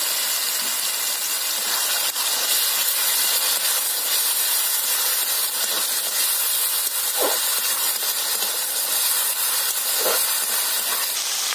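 Onion, tomato, ginger and garlic paste sizzles steadily in hot white oil in a kadai, a dense continuous hiss that stays loud throughout with a few brief spits and crackles.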